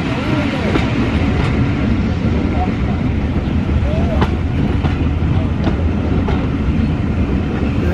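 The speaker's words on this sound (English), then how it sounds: "And will all those coaches clear the crossing?" Train coaches rolling past Watchet station on the West Somerset Railway, a loud, continuous rumble with clickety-clack wheel beats and rail squeals close by.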